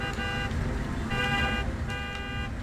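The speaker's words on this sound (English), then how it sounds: "Y'all are honking like it's gonna help." Car horns honk repeatedly in the Destroy All Humans! video game, three sustained blasts over a constant rumble of engines and street noise.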